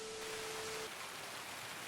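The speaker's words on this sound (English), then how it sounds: "Right now, it is raining." Steady rain falling during a match of the video game Escape From Tarkov, a continuous broadband hiss with no voices. A faint tone sits under it briefly at the start.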